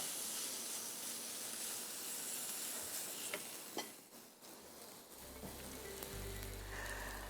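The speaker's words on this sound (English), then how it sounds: "Sizzle, sizzle, sizzle." Food sizzles and hisses steadily in a cooking pot, a continuous fry noise with a few clinks of stirring and a low hum rising near the end.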